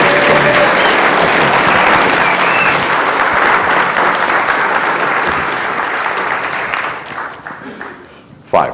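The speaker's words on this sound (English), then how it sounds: "Let's give him a big round of applause." A large audience at a motivational talk breaks into a loud, sustained round of applause that fills the room, then thins out and fades near the end.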